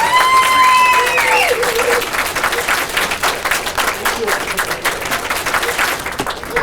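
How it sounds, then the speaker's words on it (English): A crowd at a Teamsters union lobby day breaks into loud applause and clapping, with whistles and cheering voices over it at first, then settling into steady clapping. "let's give Ed a big round of applause."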